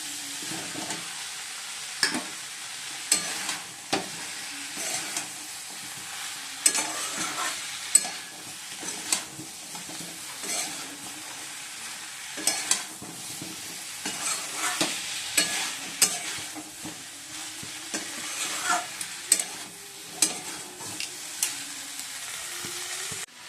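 Potatoes added to cauliflower and spices being sautéed in a pan, with continual close stirring scrapes and clatters over a soft sizzle, irregular and busy throughout, no voices.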